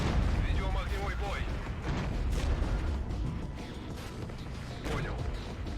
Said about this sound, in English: All right, artillery coming in.